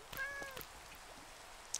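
A cat gives a short, clear meow up close, followed by a fainter second call and quiet background.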